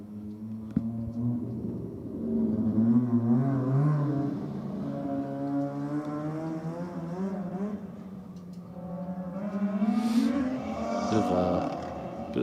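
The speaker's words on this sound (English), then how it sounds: "Bit of throttle jump in there for the RX-7" A Mazda FC RX-7 race car's rotary engine on track, with throttle jump producing rising and falling revving sweeps that surge, dip and climb again, fairly close and steady in level.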